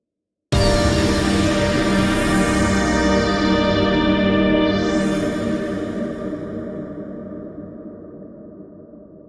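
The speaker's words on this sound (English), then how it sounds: "that will give a large reverb effect to every sound" Sounds processed in Ableton Live with a large reverb effect: a dense, sustained tone with a sweeping high element rings out loudly and alone, then slowly decays into a long reverberant tail.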